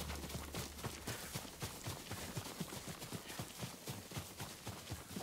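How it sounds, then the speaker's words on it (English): Rapid hoofbeats of approaching galloping horses in a video game drum steadily and quickly, a dense rhythmic pounding at moderate distance with no speech. "Horses, they're coming for us."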